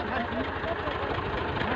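A tractor engine idles in a village farm field, a steady, close, low rumble running continuously beneath the moment.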